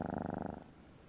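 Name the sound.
cat purring in video game Like a Dragon: Ishin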